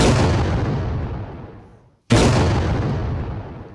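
Two heavy booming blasts of battle gunfire, each a sharp loud crack that rolls off into a long fading rumble, the second coming about two seconds after the first, with no voices heard.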